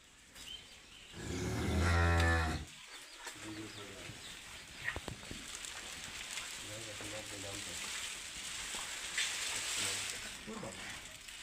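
A dairy cow on a farm lets out one loud, close, drawn-out moo early on, followed by quieter bovine sounds and birds amid outdoor background noise.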